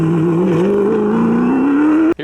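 The V8 engine of the race car that won the 2019 Dakar Rally holds a loud, smooth drone and rises slowly in pitch, then cuts off abruptly.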